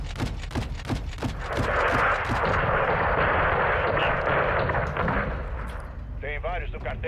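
Gunfire from the video game Call of Duty Modern Warfare 2: a quick volley of sharp shots at the start, then a sustained roar of heavy firing and blasts. Voices speak briefly near the end.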